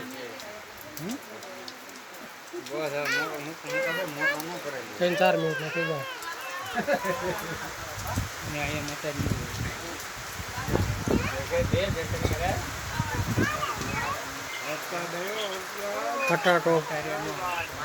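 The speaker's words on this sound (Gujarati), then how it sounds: "વાદળ છે અને વરસાદ પણ ચાલુ છે આખો વરસાદી માહોલ બની ગયો" Steady rain patters and hisses throughout, under cloudy skies near a dam, with a person talking over it for most of the time.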